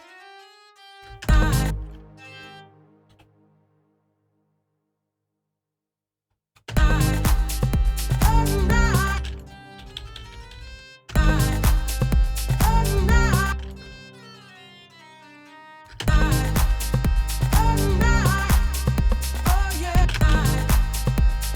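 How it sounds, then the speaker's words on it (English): Bright synthesized strings hold sustained chords in several long blocks, loud and full, with short gaps between them and an isolated stab near the start. "So now we need to hit a chord with those strings"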